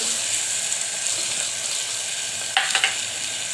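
Curry leaves, onion and potato sizzle in hot oil, a steady close crackling hiss with a few sharp clinks of a utensil near the end.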